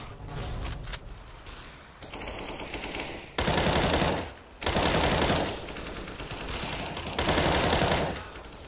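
Loud automatic gunfire from Counter-Strike: Global Offensive, several sustained bursts of rapid shots with brief gaps between them, close and dominant with no talk.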